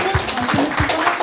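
A short burst of applause at a hackathon, many hands clapping together at close range, steady and dense throughout.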